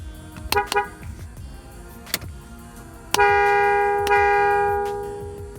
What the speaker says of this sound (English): here's the horn currently